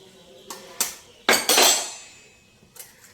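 Eggs cracked against a bowl while making a healthy homemade breakfast pizza, a series of sharp clinks and taps on the rim, two louder knocks close together in the middle, then a faint final tap, heard alone.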